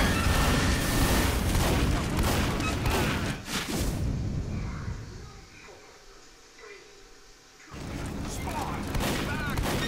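Rapid gunfire and explosions from a Team Fortress 2 match fill the opening seconds loudly and densely, drop to quieter game ambience in the middle, then return as heavy continuous shooting near the end.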